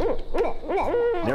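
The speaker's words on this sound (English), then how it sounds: "we had owls literally flying and landing in treetops 10 feet above our heads, and they were hooping and hollering and making all kinds of noise" Owls hoot repeatedly in a cypress swamp, several calls in quick succession from birds perched close overhead, loud and clear with no talk.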